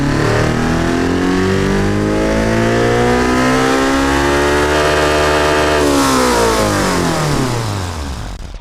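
A 2-liter modern sports car engine in the BeamNG racing game revs loudly and continuously, its pitch sweeping up and down in strong harmonic tones, then easing off near the end; no one speaks.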